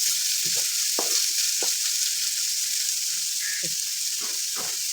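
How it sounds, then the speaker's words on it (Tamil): Steady, bright sizzle of lightly salted onions frying in a hot pan, with occasional soft clinks and stirring scrapes over the constant hiss. "வெங்காயம் வதங்குறதுக்கு லைட்டாக உப்பு லைட்டாக உப்பு போட்டு"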